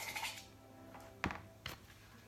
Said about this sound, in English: Let's just scrape it because it's almost done with.